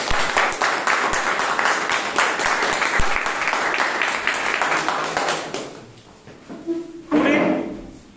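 Meeting audience breaking into a round of applause, loud, dense clapping from many people for about five seconds, then fading, followed by a brief bump and a voice.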